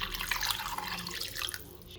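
Water streams steadily from above into a pot of sautéed pork ribs for nilaga seasoned with fish sauce, a continuous close splashing and trickling pour with no voices.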